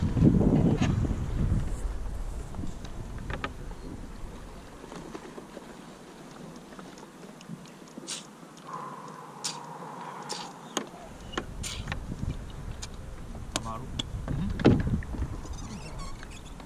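Rowing boat strokes during a race, with periodic splashes and knocks of oars at a steady rhythm over wind noise, fairly close.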